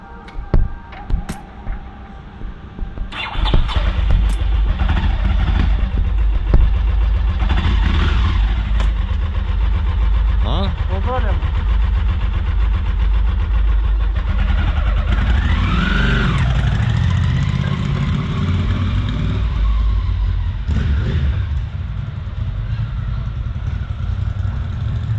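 Ducati Monster motorcycle engine starts and runs with a loud, throaty idle and revving, then pulls away with rising and falling engine notes, close at first and steadily roaring.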